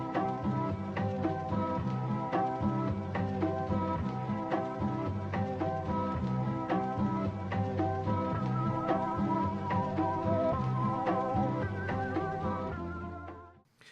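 A music disc from the video game Minecraft plays, a dense, steady electronic tune with repeating notes and a pulsing beat, continuous and fairly quiet, fading out at the very end with no voices.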